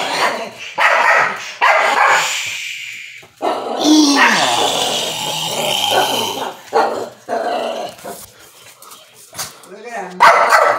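A dog barks and growls in short bursts amid people talking nearby, with some heavy thumping movement in the background.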